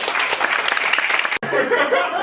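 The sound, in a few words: comedy club audience applause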